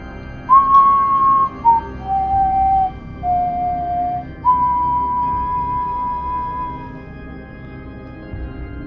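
A clear, melodic whistled tune: a few sustained notes sliding between pitches, steady and fairly close, with faint background noise.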